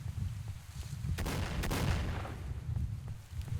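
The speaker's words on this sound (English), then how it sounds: "Something's firing at me." Gunfire in the S.T.A.L.K.E.R. OGSE mod at Yantar, a couple of sharp shots cracking out over a steady low rumble of ambience, moderately loud and close.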